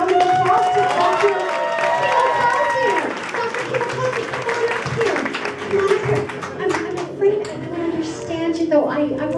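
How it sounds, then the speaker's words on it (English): Audience at a comedy hypnotist show applauding, a dense patter of clapping from a crowd mixed with cheers and voices, with someone talking over it. "Put your hands together and give a big round of applause to all of you."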